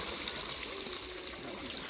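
Water pours and trickles steadily at a farm pump while the motor is being primed, a soft continuous flowing sound with no voices.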